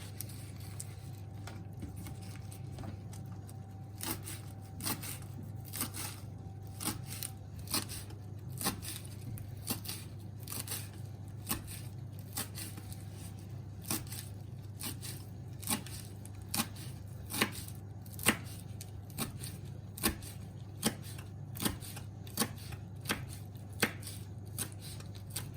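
A knife cuts a tight bundle of fresh herbs for tomato fritters on a board, fast regular chopping taps that continue over a low steady background hum, close and fairly quiet.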